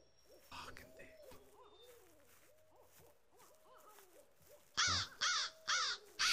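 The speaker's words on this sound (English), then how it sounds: "Shut up, bird." Bird calls in a dinosaur horror video game: repeated hooting notes echo at a moderate distance, followed by several loud, harsh cawing bursts close by, with no speech.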